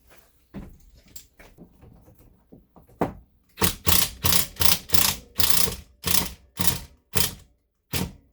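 Wood screws are driven to mount a fan in a 2019 Allegro motorhome, heard as a close run of about ten rapid ratcheting bursts in steady rhythm after some quieter fumbling and clicks.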